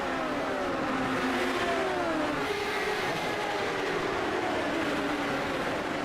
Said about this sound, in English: Several cars, double file, as we work our way down the front stretch, back into 1 and 2.